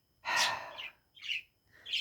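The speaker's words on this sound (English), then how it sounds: "Hello birdies, you cheeky birds." Small birds chirp nearby in a quiet outdoor setting, three short bright tweets spaced across a couple of seconds with silence between them and no talking.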